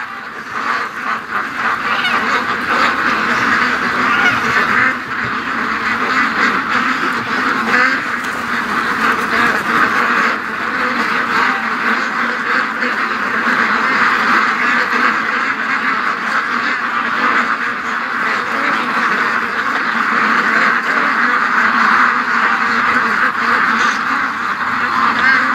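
Flock of ducks being raised for charity, quacking loudly and continuously close by in an overlapping, chattering chorus that runs for the whole stretch.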